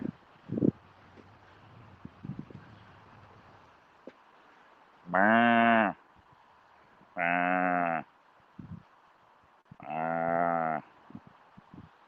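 Three loud, drawn-out sheep bleats, spaced a second or two apart, with a few faint knocks and rustles between them and no talking.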